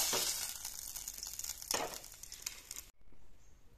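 Panch phoron spices fry in a little hot oil for a fish curry, giving a bright, crackling sizzle with bursts of popping, before cutting abruptly to a quieter, softer hiss.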